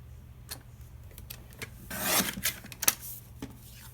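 Paper is cut for a lap book pocket in a short series of soft scissor snips and rubbing sounds, rising to a brief louder rustle near the middle, quiet and close.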